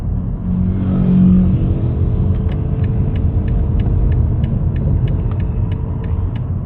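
BMW M850i V8 engine and exhaust inside the cabin, a steady low rumble with a brief rising rev, then a rapid string of sharp crackling pops and bangs from about two seconds on, close and loud.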